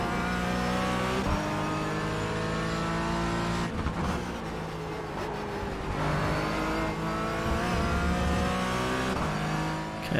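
A race car engine in the iRacing sim drones loud and steady, its tone rising and falling through gear shifts and short drops as the driver lifts, with no talking.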